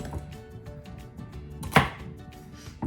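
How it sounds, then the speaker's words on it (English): A knife cuts through a stalk of celery on a board, with one loud, sharp chop standing out among softer handling noises and faint background hum. The cutting is close and no one speaks. "I'm going to chop this stalk of celery."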